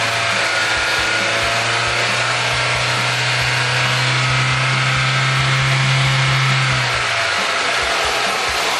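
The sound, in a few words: car engine revving from 700 to 4000 rpm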